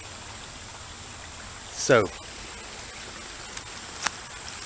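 Creek water runs with a steady, soft wash through an outer-city creek, joined by one short splashy clatter and a couple of faint knocks, while someone speaks briefly.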